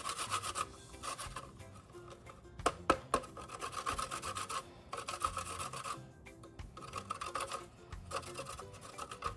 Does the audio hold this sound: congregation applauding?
no